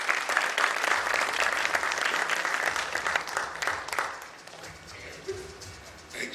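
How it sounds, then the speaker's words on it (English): Audience applause in a convention hall at an economic forum summit, a lively burst of many hands clapping that holds for about four seconds, then thins out into scattered claps and settling room noise. "please give a round of applause to Bharatrao Kamte"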